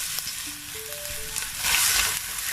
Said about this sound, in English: And I'm going to be frying this until golden brown.